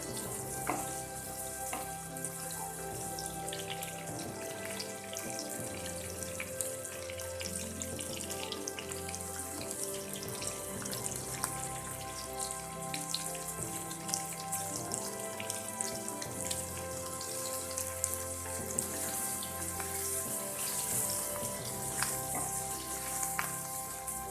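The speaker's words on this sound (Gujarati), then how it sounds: "ગુંદાને આપણે થોડા સોફ્ટ થાય ત્યાં સુધી આ રીતે તેલમાં ચડવા દઈએ" Stuffed gunda fry in oil in a pan with a loud, steady, close sizzle and crackle that runs unbroken throughout, with no talking.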